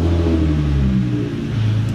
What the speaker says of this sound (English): we're gonna start her up, crank her over, see how the oil pressure is